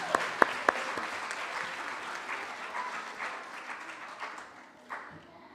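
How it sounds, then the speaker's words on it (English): A school assembly audience applauds a student, with a few sharp claps up front swelling into a soft, scattered round of clapping that thins out over about five seconds, fairly distant and quiet. "Let's give Aiden a round of applause"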